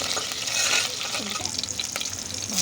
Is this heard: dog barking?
no